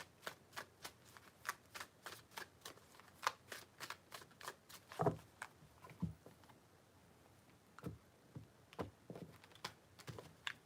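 Rapid riffling snaps of tarot cards being shuffled, repeated in quick bursts of flicks, close and crisp with no talking.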